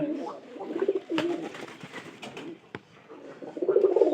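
Pigeons in a loft coo in low, rounded phrases, swelling near the start and again near the end, with a few small clatters and shuffles between the calls.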